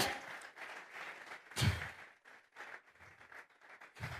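A church congregation at a Sunday service claps, fairly faint and somewhat uneven, with louder bursts standing out among the softer patter.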